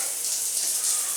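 A steady, close rush of water pours from a tap at a campground, constant and bright with no pauses.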